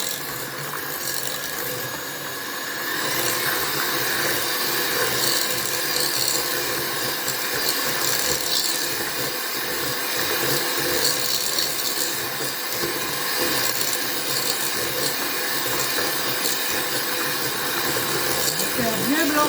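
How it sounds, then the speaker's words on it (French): An electric mixer whips six eggs with sugar for a Mont Blanc cake, a loud continuous whirring drone that holds steady throughout with faint rattling in the bowl. "Ensuite, je vais mixer tout cela."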